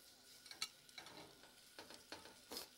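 Frog legs browning in a pan, a faint sizzle with a few soft scrapes and clicks of a utensil as they are turned, close but quiet.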